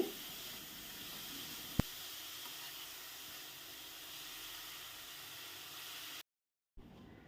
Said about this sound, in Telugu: కొంచెం క్యారెట్ పచ్చివాసన పోయే వరకు ఒక రెండు నిమిషాల పాటు ఇలా వేయించుకోవాలి